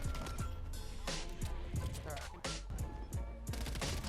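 Artillery strike in the video game Black Ops Cold War: a dense fusillade of booming blasts and rapid gunfire rolls on continuously, loud and close, with explosions overlapping throughout.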